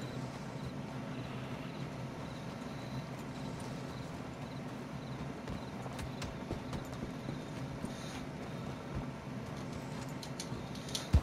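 Horse hooves in a video game clip-clop in a steady, continuous rhythm, moderately quiet and close, alone without speech over a faint background hum.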